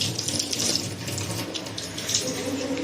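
Oil sizzling steadily in a pan on a home stove while food fries for chicken fried rice, a continuous close hiss that stays even throughout, with no voices.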